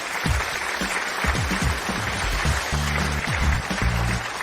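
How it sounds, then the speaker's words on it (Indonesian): An audience gives steady applause as a speaker is welcomed to a business event. The clapping forms a continuous crowd texture with no clear break. "Mari beri tepuk tangan."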